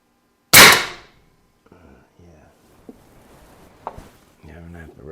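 A single sharp, loud crack from an FX Pantera air rifle firing, decaying quickly, followed by quiet handling noises and soft talk.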